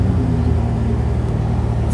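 A Ferrari 296 GTS convertible supercar accelerates at a hillclimb event, giving a loud, deep, continuous engine rumble heard close throughout.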